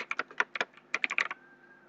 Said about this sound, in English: And I am typing my name